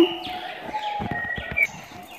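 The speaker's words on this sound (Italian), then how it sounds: "ho anche delle tortore in colorazione particolare come per esempio quella bianca pezzata" Turtle doves, including a white pied colour variety, calling among other exotic cage birds in an aviary; soft chirps and coos overlap with bright tweets, steady and close, with no talk.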